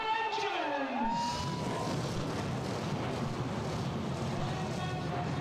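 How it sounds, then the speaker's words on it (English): 600 horsepower V8 F1 stock car engines firing up together at Cowdenbeath Racewall, a rising whine then a sustained loud, dense roar of many engines at once, continuous and unbroken. "The 600 horsepower V8s fire into life"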